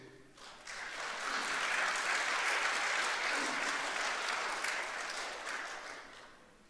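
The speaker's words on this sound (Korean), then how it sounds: "서로 한번 박수해 주세요." A church congregation applauds steadily for several seconds, a dense wash of clapping that swells in quickly and tapers off at the end.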